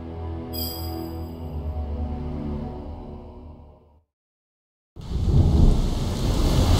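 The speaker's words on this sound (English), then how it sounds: "Looks like a storm's coming." A video game thunderstorm: a long, deep rolling rumble of thunder that fades out, a brief silence, then loud rain bursting in and hissing steadily alongside low thunder.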